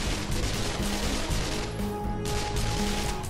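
Gunfire in the VR tactical shooter Pavlov, a dense, continuous clatter of shots blended with harsh noise, loud and close for a few seconds.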